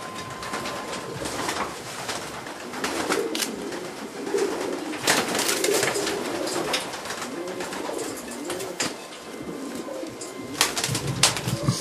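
Breeding pigeons coo repeatedly inside a loft, soft layered calls from several birds with occasional wing flaps and rustling, steady and close throughout.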